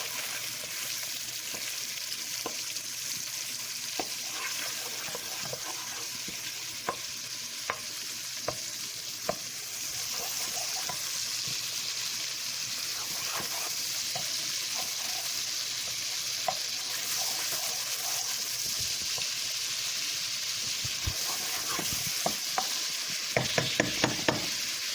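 Garlic and ground pepper sizzle steadily in a hot pan while being stirred, a dense, even frying hiss throughout, dotted with small scraping clicks and a few sharper taps near the end.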